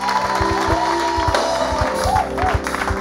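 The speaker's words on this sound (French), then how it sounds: "Recevons le par des acclamations, cher public." A studio audience at a French-language Christian television broadcast cheers and applauds loudly, with steady clapping, whoops and shouts filling the whole moment.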